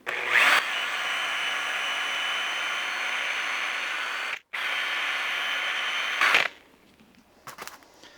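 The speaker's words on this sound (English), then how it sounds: "my polishing thing on my drill" Drill fitted with a polishing attachment buffs scratched, oversprayed paint on an old Porsche 928, a steady loud whirring drone running for several seconds with a brief cut-out midway, ending with a short burst and then quieter handling sounds.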